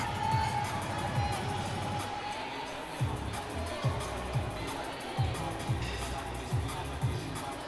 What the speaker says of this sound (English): The crowd get behind her over here in platform 1.